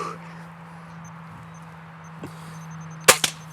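A high-pressure gun fires one sharp, loud shot followed by a quick second crack, over a steady low hum, near and without talk.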